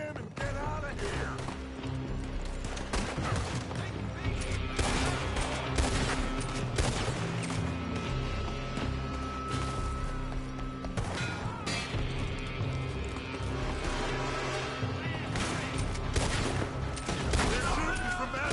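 Sustained gunfire from a building in Red Dead Redemption 2, dense overlapping shots and volleys crackling steadily under music and shouting voices throughout.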